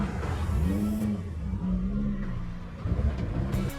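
A Nissan GT-R engine pulls hard under acceleration, a low droning growl rising and dipping in pitch over a few seconds, close and fairly loud.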